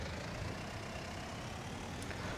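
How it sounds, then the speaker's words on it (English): Dense, steady rumble of a tractor engine hauling a trailer in a farming game, a constant low-heavy drone with no breaks, fairly close and unaccompanied. "This tractor definitely pulls the trailer better than the MISSYB."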